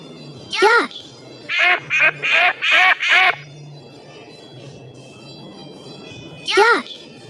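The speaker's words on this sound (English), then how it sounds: "Duck." A duck quacks in a bird sound lesson for children: a single call, then a quick run of five loud, evenly spaced quacks, and one more call near the end, clear and close.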